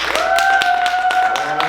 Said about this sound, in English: if you guys want Lizzie to sit down, clap for her